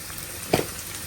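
Red amaranth greens frying in a pan with green chillies, garlic and salt, giving a steady soft sizzle with one brief louder crackle partway through.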